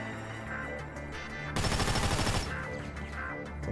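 A sniper rifle shot in Grand Theft Auto V on PS4 bursts out loud and close, a single sharp blast with a rolling tail that lasts about a second, set against steady game background noise.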